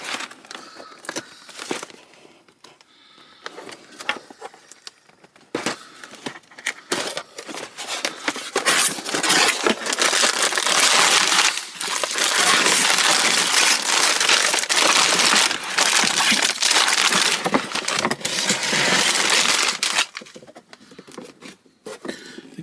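The seal on a Mould King 10012 Cadillac Eldorado building set box is broken, giving close crinkling, tearing and crunching sounds. They build into a dense, continuous rustle, then thin out near the end.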